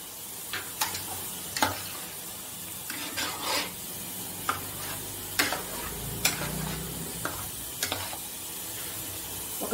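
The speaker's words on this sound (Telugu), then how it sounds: "సాల్ట్ వేసాక మరొకసారి బాగా కలుపుకొని" A spoon stirs salted Chandamama Bedisalu curry in a pan, giving repeated scraping and clinking strokes at an uneven rhythm over a steady low sizzle, close and moderately loud with no talking.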